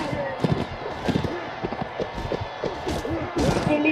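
Horse hooves gallop in a Mount & Blade battle, a rapid, uneven clip-clop of hoofbeats running steadily throughout alongside other game noise and voices.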